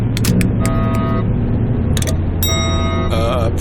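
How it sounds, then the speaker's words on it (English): In a science-fiction audio drama, power bus breakers aboard a spaceship close with a series of sharp electronic clicks and tonal beeps over a steady low mechanical hum, loud and close. "Closing power bus breakers."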